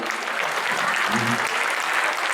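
An audience claps at a Maharashtra Day cultural gathering, a short, dense burst of steady applause from a crowd, loud and close, with a faint voice briefly underneath.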